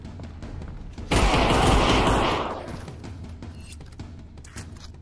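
A burst of sustained gunfire in the Half-Life John Wick mod, loud and close, roaring for about a second before tailing off into scattered lighter shots and game noise.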